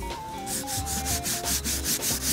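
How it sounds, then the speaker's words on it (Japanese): Sandpaper rubs back and forth over the weathered plastic of a motorcycle rear box that has been used for over ten years on a Super Cub, making a rhythmic series of close, even scratchy strokes. "とりあえず全体をやすったよ"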